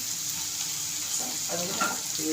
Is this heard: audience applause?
no